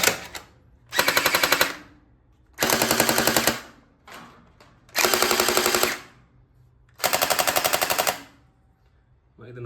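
A toy gun with a blowback action fires four long rapid-fire bursts, each a dense, loud rattle of clicks lasting about a second, separated by short pauses and a few quieter single clicks.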